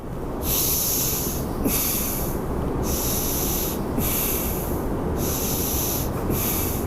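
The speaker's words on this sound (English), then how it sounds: "One is Bhastrika, deep breathing." Bhastrika yoga deep breathing: a steady series of about six forceful, drawn-out breaths in an even rhythm, loud and close over a constant low background rumble.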